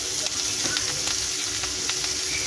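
Taro leaves (kochu shak) go into a hot frying pan over lightly fried coconut and sizzle in a continuous, even hiss, close and dense, with no voices.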